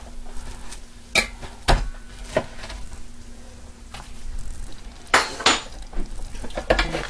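A waffle being pried from a hot waffle iron, heard as a series of sharp metallic clanks and clinks of utensils against the iron, with quiet gaps between them.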